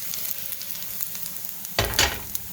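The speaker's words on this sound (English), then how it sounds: "it's sizzling already, which means my pan is pretty much hot enough for me to add the zucchini" Zucchini hits a hot pan and sizzles, starting with a quiet frying hiss that erupts into a loud, bright burst near the end as the pieces are stirred around, no voices present.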